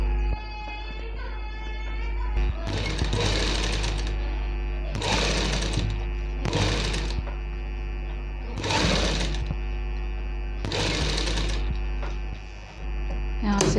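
Sewing machine attaching piping to a baby bib, running in several distinct bursts with short pauses between them, over a steady background hum.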